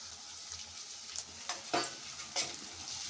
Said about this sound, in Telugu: ఉల్లిపాయ ముక్కలు వేగుతున్నాయి కదా